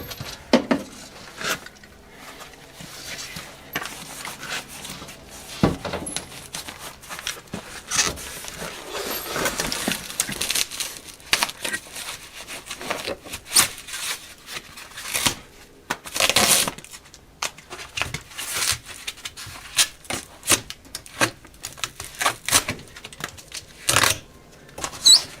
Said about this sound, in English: I got Joey cutting the pipe.